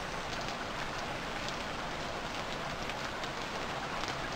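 Steady rain falls in the survival video game Stranded Deep, a dense, even hiss of patter that holds at the same level throughout with no voices over it.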